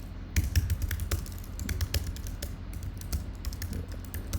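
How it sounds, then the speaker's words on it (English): Computer keyboard typing during a live app demonstration: a steady run of quick, light key taps, close and fairly quiet, with no talking. "I'm going to start typing some more."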